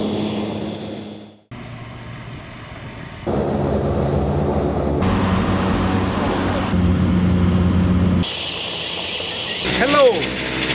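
Engine of a small airplane on a safari flight into the Serengeti, a steady droning hum with shifting loudness across cuts, partly under talking voices, with a rising whine near the end.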